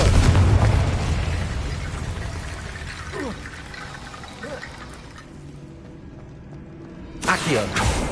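In a Harry Potter video game, the Confringo blasting spell sets off a loud, rumbling explosion that fades out, followed by a sharp burst near the end.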